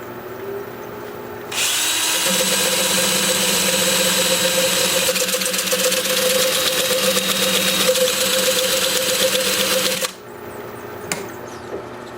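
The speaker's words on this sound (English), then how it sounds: "So I'll be sanding like this" Abrasive sanding against a walnut hollow form spinning on a wood lathe, a loud steady whirring rasp that starts abruptly, holds for about eight seconds, then cuts back to the quieter hum of the running lathe.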